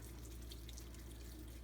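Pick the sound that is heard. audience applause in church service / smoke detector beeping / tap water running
tap water running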